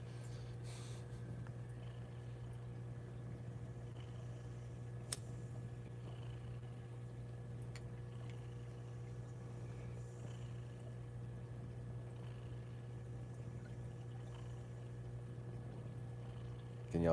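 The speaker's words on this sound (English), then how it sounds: "Can y'all hear the kitten purring?" Soft, steady low purring from a kitten runs continuously, close and quiet, with a faint constant hum in the background and no talking.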